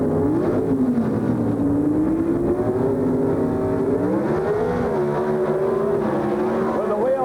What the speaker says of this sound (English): the gasoline-burning Pro Stock cars race to the finish line